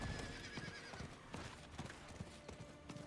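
Video-game horse hooves clip-clop in a quick, irregular rhythm, sharp, close and repeated, with a faint whinny alongside at a low overall level.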